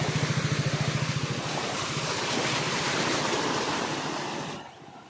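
Flood water from the Barak River flowing over a road: a steady, loud rushing wash, with a rhythmic low pulsing at the start, before it drops off sharply near the end.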